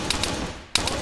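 Rapid gunfire in the REDCON-1 war game, sharp bursts of shots in quick rhythmic succession, close and loud, with a brief gap before firing resumes.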